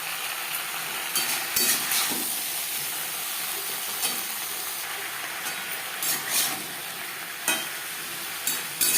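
Potatoes and eggplant being stirred into a simmering hilsa fish curry cooked with little oil, a close, continuous sizzle and bubbling broken by the soft scrape of a spoon at intervals, with no talking.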